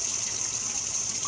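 Water runs from a tap to rinse out hummingbird feeders, a steady, even hiss of flowing water heard close with no pauses.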